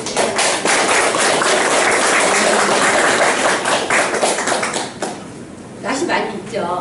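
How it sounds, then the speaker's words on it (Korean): Audience applause at a senior volunteer club training session, welcoming a speaker to the front: dense, steady clapping filling the room for about five seconds, then thinning out under murmuring voices. "박수로 맞이해 주시기 바랍니다"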